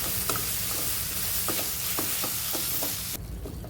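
Turmeric, chilli, coriander and cumin powders fry in oil in a pan, a loud continuous sizzle with several sharp spoon-stirring scrapes, the hiss dropping off abruptly near the end.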